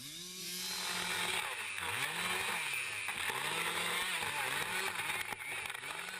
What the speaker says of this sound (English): the loggers here rely on a single electric chainsaw for all their needs